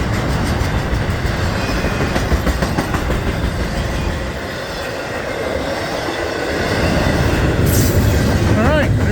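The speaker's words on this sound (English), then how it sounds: "Here's some flat spots on the wheels." A Norfolk Southern intermodal freight train rolls past close by, its wheels with flat spots giving a loud continuous roar and rhythmic clatter of railcars over the track.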